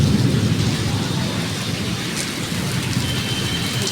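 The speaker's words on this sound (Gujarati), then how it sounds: "જો ગાજે એ સંભળાતો હોય છે તમને." Steady heavy rain with a low rumble of thunder running through it, loud and continuous with no one speaking.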